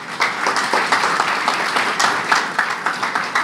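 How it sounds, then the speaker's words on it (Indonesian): An audience applauds at an Indonesian motivational talk, a dense, steady patter of many hands clapping close and fairly loud for the whole stretch, with no talking over it. "Tepuk tangan buat semuanya."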